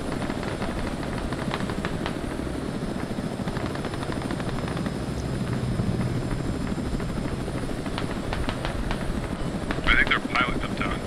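A helicopter in the Squad combat game drones loudly and continuously with a steady rotor chop, joined near the end by faint voices.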